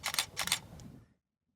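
A DSLR shutter fires a quick burst of three auto-exposure bracketed shots, each a sharp double click, close and crisp with silence after.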